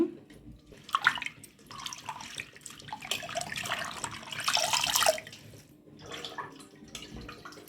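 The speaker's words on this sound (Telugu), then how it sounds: "ఇలా రెండు సార్లు అయితే కడగండి ఇంకొకసారి కడుగుతాము" Gongura leaves being washed by hand in water, giving uneven splashing, swishing and dripping in bursts with brief quieter gaps, close and moderately loud.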